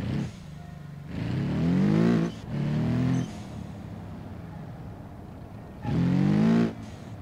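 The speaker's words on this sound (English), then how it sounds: "You guys hear that wheel spin there?" Car engine revving and tires spinning in BeamNG.drive on curvy Italian roads, rising whining bursts of throttle separated by quieter idling, close and loud.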